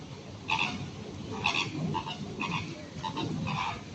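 Birds in Kowloon Park, Hong Kong, give loud, harsh calls about once a second, a repeated croaking chorus over soft background noise.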